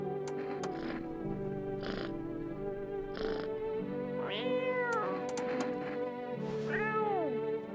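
A cat in the horror video game No I Am Not A Human meows several times in short, rising-and-falling calls, close and clear over a steady low background drone.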